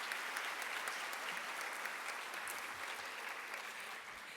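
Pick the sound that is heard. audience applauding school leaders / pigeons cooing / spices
audience applauding school leaders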